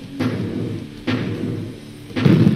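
Three dull tank cannon blasts from the HoloLens game Holo Tankz, booming thuds spaced about a second apart, each followed by a lingering low rumble.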